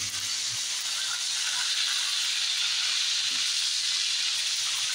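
Soy-marinated beef sizzling in hot oil in a pan, a steady close broadband hiss and crackle running continuously without pause.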